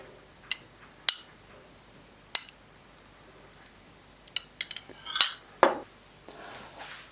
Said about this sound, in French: on prend une cuillère, on mélange le sirop d'agave avec le jus d'orange et on imbibe.